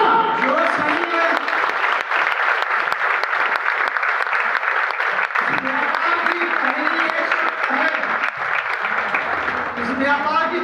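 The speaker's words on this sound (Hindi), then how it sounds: "दोस्तों जोश के लिए जोरदार तालियां" A seminar audience claps loudly and continuously, a dense sustained roar of applause with some crowd voices mixed through it, lasting the whole stretch without pause.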